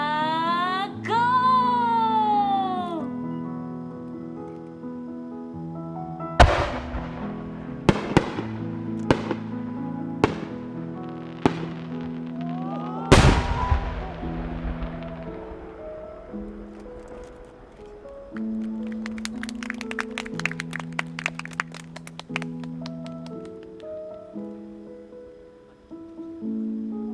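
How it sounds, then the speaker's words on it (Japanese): Large shakudama firework shells at a private fireworks show by a Japanese fireworks maker, launched and bursting as a series of sharp booming reports over music, with crackling sparkle near the end. "本日最初の尺玉打ち上げ"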